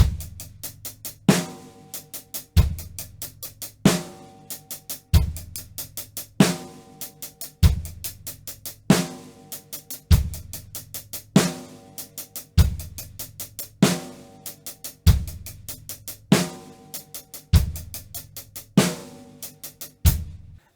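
A drum set plays a slow, evenly repeating beat, with sharp snare and kick hits and quicker hi-hat strokes that include triplet figures, close and clear, with no talking.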